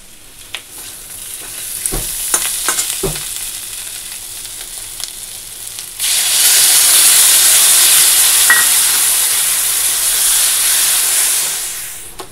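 Masala spices fry and get stirred in a pan, opening with faint scraping taps before a loud, steady sizzling hiss takes over and holds for several seconds, close up with no talking.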